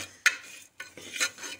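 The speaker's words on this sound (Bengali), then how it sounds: "মুগ ডালটা একটু ভাজা হোক" Moong dal dry-roasting in a pan, stirred with a utensil in a few distinct scraping strokes and rattles of the grains, close and clear with no speech.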